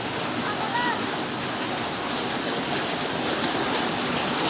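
Floodwater from Typhoon Carina rushes down off the mountain in a constant, full, nearby roar of churning water, with a faint voice blended into the noise.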